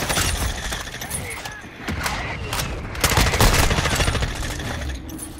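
SMG gunfire in the Call of Duty Modern Warfare II video game: loud, rapid bursts of shots with sharp cracks and breaking impacts, heavier near the end, over game noise and some voice.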